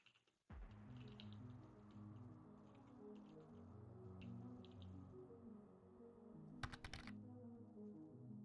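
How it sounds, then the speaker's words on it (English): Typing on a mechanical keyboard with clicky switches: a steady, fast stream of crisp close key clicks with faint background hum and a brief sharper clatter toward the end. "Bunch of clicky switches."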